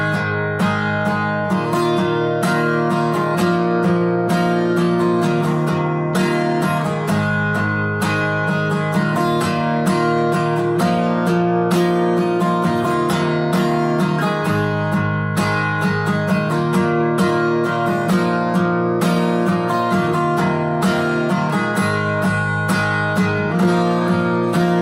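Acoustic guitar strummed steadily in eighth notes with alternate up and down strokes through a worship song chorus progression, a continuous even rhythm at close range and consistent volume, with no talking.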